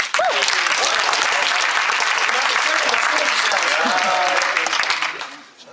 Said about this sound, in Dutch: Nog een applaus voor deze man.